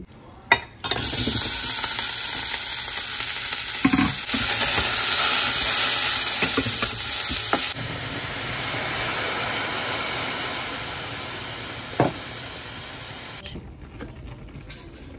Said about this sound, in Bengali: কয়েকটা দিন ধরেই লোহার কড়াইতে রান্না করছি।